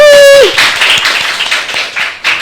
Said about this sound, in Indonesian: Tepuk tangan dong buat Q&A.